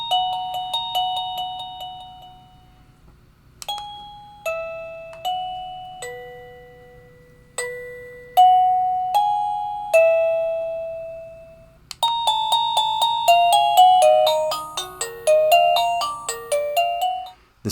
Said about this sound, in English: It has a volume control and a chime selection, which you can actually select simply by pressing it.